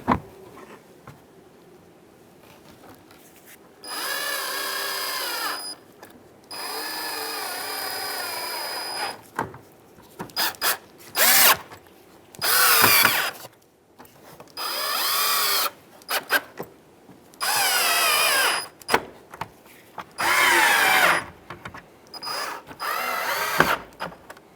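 Power drill driving screws into the centre piece of a 2007-2015 Mazda CX-9 bumper cover, several loud whirring bursts of a few seconds each, stopping and starting with short clicking gaps between.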